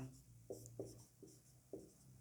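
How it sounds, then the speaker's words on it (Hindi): Pen writing on paper during a math lesson: four short, faint scratchy strokes spaced out over a quiet background hum, close by, with no voice. "इसको थोड़ा इधर लिखते हैं"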